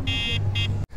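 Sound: Wing Freedom X.2 scooter horn alarm

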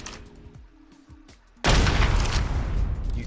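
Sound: rocket launcher firing in video game ARK Survival Evolved

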